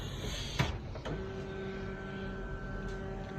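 A number plate printer runs as it prints bottom text, giving a couple of mechanical clicks and then a steady motor whine with a sustained tonal hum, moderately close with no talk.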